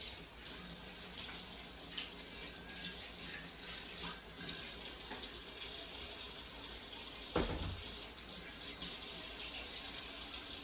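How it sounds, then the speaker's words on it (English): Water runs steadily from a kitchen tap while hands are washed, a continuous hissing stream with small splashes and one brief louder knock partway through, no talking. "Let me wash my hands."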